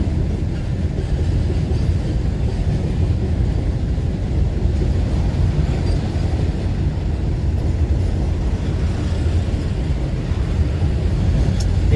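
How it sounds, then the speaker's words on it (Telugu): A goods train rumbles past on a barrage, a loud continuous low roar with steady rolling wheel noise throughout, without speech. "గూడ్స్ ట్రైన్ వెళ్తాను చూడండి."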